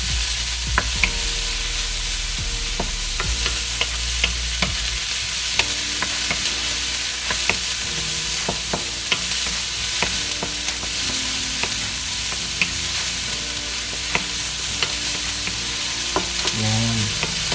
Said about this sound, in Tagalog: lagyan natin yung ating garlic. Gisa-gisa lang natin.